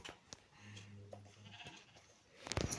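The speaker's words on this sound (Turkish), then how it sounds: "Gelin koyunlar." A single video-game sheep bleats faintly from a short distance, a wavering call amid quiet background noise, followed by a sharp clatter near the end.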